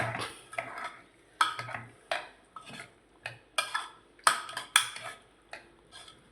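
A spoon stirs a bottle gourd and chana dal curry in a pot or pressure cooker after water is added, giving about a dozen distinct scraping, clinking strokes in an uneven rhythm, close and clear with no talk.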